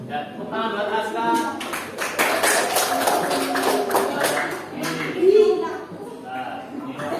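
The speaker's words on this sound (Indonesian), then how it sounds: "tepuk tangan buat Aska" Classroom applause for a student named Aska, scattered hand claps from a group of students, loud and uneven, mixed with chatter and voices throughout.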